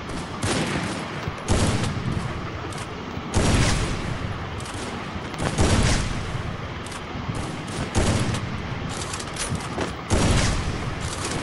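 Sniper rifle shots ring out in the Free Fire Craftland video game, a series of loud sharp blasts spaced a second or two apart, each trailing into a brief rumbling echo.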